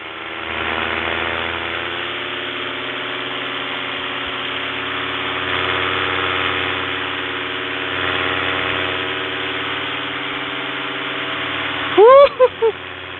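An aircraft engine and propeller, part of a comparison of Helix, DT and KD propellers, drones steadily and loudly at full-throttle climb, with a rich buzzing tone that holds throughout before a brief sharp disturbance near the end.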